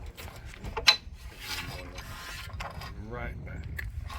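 An electric motor drives an Amp Research retractable running board outward on a 2011–2016 Ford Super Duty, making close, uneven mechanical clicks, ratcheting and grinding with a sharp clunk near the start.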